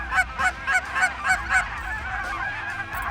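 Several geese honk in a rapid series, loud and close, then the calls fade into a softer murmur of the flock.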